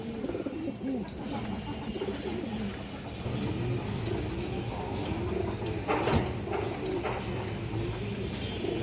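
Restless pigeons kept in a loft coo softly and repeatedly at close range, with faint rustling and shuffling around them.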